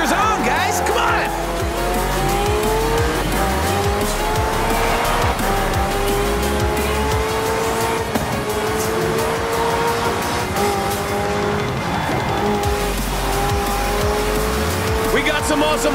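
Hypercars racing in Forza Horizon 4: loud, continuous engine roar with rising and falling revs and squealing tires, sustained throughout beneath talk.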